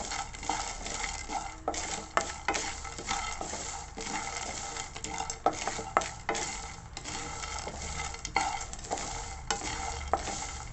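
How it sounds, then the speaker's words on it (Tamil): Peanuts dry roast in a pan while being stirred steadily, making a continuous rattling, scraping clatter throughout, close and fairly loud with no voices. "இருந்தாலும் நான் இன்னும் ஒரு தடவை இதை வறுத்துக்கிறேன், சூடு பண்ணிக்கிறேன்."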